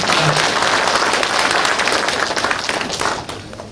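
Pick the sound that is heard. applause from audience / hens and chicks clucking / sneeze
applause from audience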